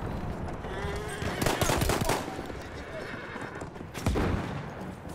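A horse whinnies amid Battlefield 1 combat, with bursts of gunfire and a player talking over the game sounds.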